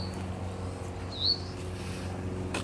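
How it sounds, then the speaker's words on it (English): Birds at the Eldorado Nature Center in Long Beach, a single bright chirp standing out against a low steady outdoor background hum, with faint calls around it. "Sound like birds."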